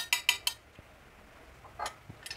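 Metal body parts of a spring-powered Sig Sauer toy pistol clink together in three quick, bright taps, followed by a pause and a few softer knocks, close and fairly quiet.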